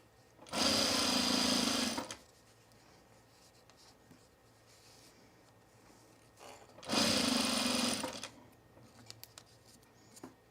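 A sewing machine runs in two short bursts of rapid stitching through a canvas apron, close and loud, separated by a quiet pause with small handling clicks.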